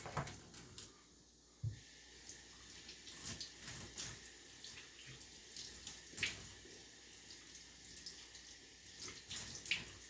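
Water runs steadily from a tap while a boot is rinsed beneath it, with occasional splashes, knocks and shifts in the flow.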